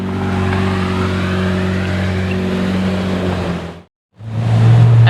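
Straight-piped Lamborghini Murcielago LP640 V12 roaring loudly and steadily nearby, cutting out briefly before another burst of engine noise.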